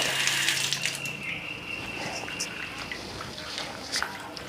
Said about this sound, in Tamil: கோவையில் இதை வந்து நம்ம கழுவிக்கலாம்